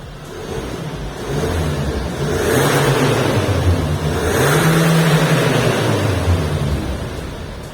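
A Hyundai Palisade diesel SUV engine revs up twice, rising to a throaty roar and easing back down, heard up close with steady idling in between.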